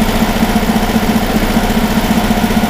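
A rebuilt 1959 dune buggy engine runs during break-in at roughly 2,000 rpm, a steady, close, even idle-like drone with a constant throb and no pauses.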